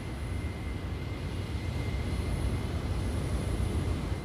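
A North American XB-70 Valkyrie supersonic bomber prototype produces a steady, even jet roar with a faint high whine, held at a constant level throughout.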